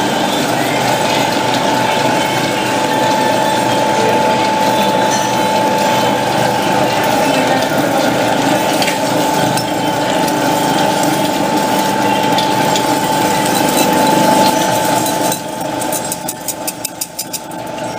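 A pre-1923 needle sorting machine at the Bohin factory separating sewing needles by size, running as a loud continuous mechanical whir and rattle with a steady tone, its rhythm shifting into faster ticking near the end.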